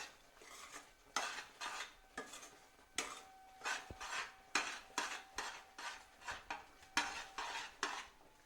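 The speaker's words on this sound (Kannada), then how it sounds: "ಹಾಗೆ ಕೈಯಾಡಿಸ್ತಾನೆ ಇರಬೇಕು, ಹೊತ್ತಬಾರ್ದು" Grated coconut mixture for coconut candy is stirred in a pan in steady, rhythmic scraping strokes, a utensil rasping against the metal over and over, close and fairly quiet with no talk.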